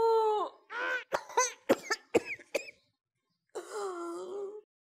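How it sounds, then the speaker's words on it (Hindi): A person coughs in a harsh, rapid burst of several coughs, preceded and followed by strained, moaning breaths, close and loud. "या अल्लाह ये खांसी और सांस मुझे जीने नहीं दे रही"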